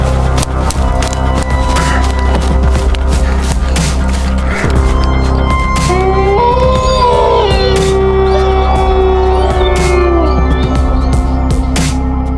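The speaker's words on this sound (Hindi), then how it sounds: "अभिषेक पीछे मुड़कर देखा तो उसके सामने वही काली बिल्ली खड़ी थी" A black cat meows and caterwauls in a horror story, with several drawn-out, wavering cries standing loud and clear over a steady low background hum.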